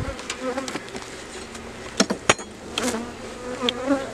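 Honeybees buzz steadily around an open beehive during a fall inspection, with sharp clicks and knocks from handling the hive components.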